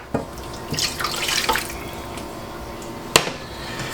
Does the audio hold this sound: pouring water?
yes